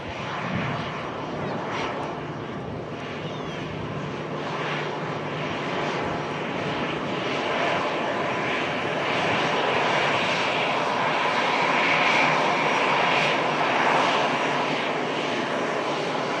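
Jet engines of an EasyJet airliner at Manchester Airport roar steadily and loudly throughout, a broad continuous rumble that swells slightly toward the end as the plane passes nearby.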